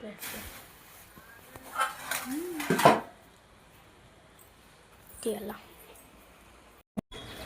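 Biryani ingredients with onions and biryani masala are stirred in a pot, making a few soft clinks and scrapes of a utensil against metal. The sounds are faint and come in short bursts among people talking nearby.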